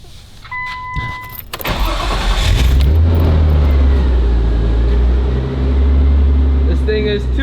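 A Nissan R34 Skyline GT-R engine cranks and turns over, then settles into a low steady idle, loud and close.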